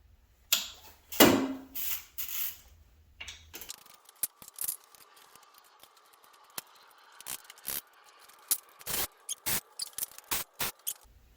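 Torx bolts come out of a Porsche 997 Turbo during engine removal, a series of sharp ratchet clicks and metallic taps in irregular bursts, close and fairly loud with quiet gaps, no talk.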